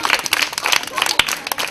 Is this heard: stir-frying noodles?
no